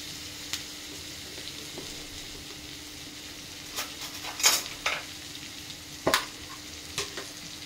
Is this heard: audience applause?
no